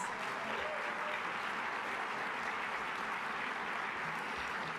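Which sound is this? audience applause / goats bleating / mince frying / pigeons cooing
audience applause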